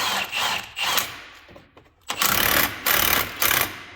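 Impact wrench tightening the clutch on a 2020 Polaris XCR 850 snowmobile, several loud close rattling bursts separated by short pauses, with no speech.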